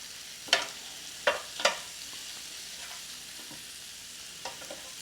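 Lamb chops sizzle on a Ninja Foodi Smart XL Grill, a soft steady hiss broken by a few sharp clacks of tongs flipping the meat, no voices.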